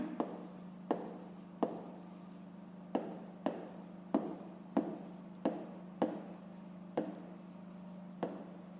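A pen writes a fraction on paper in a steady series of about a dozen short, crisp scratching strokes at regular intervals, close and quiet, with no talking.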